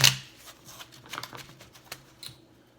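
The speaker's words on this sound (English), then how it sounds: "Alright, one more shuffle." Tarot cards being shuffled by hand close up, a sharp opening riffle followed by a run of quick, soft papery flicks and taps that trail off.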